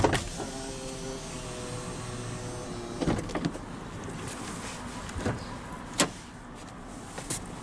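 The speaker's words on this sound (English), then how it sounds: "But now we'll roll down the driver's window and have a look at the engine bay." The automatic driver's window of a 2001 Honda Odyssey rolls down with a steady electric motor whine lasting about three seconds, then a thunk as it stops, followed by a few scattered clicks and knocks from the van.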